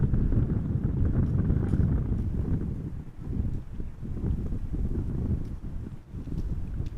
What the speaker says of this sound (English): Wind is picking up, definitely.